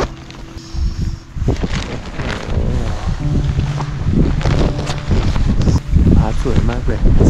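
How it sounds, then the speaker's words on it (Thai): Strong mountain wind buffets and flaps a tent, giving loud rustling gusts and fabric slapping close to the microphone, while someone talks over the noise. "ตอนนี้ลมแรงมาก"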